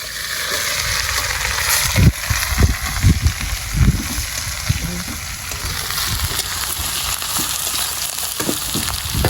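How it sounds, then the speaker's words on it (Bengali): Carrots fry in hot oil in a pan for fried rice, a loud, constant sizzle with scraping stirs and clanks throughout, and no voices. "গাজরটা ভেজে নেবো।"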